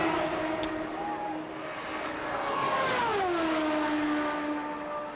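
AJ Foyt's Indy 500 race car runs down the main straightaway. Its high engine whine sounds distant and fairly faint, sweeping past with a clear drop in pitch before fading over a wide, hollow background.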